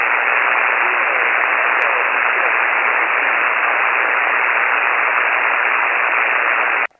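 Amateur radio static on a fading band, from a mobile setup in a gravel parking lot: a loud, unbroken band-limited hiss lasting several seconds before cutting off abruptly.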